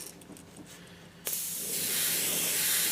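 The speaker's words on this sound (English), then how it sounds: "Alright, we're going to spray our base coat." A spray gun with a 0.5 needle starts abruptly and keeps up a loud, steady hiss of base coat paint being sprayed, close by, with no talking.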